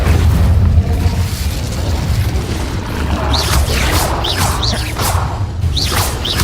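Spell blasts from the video game Hogwarts Legacy, including the Incendio fire spell, a loud dense rush of booming, whooshing magic effects with rising bright swishes over a constant low rumble.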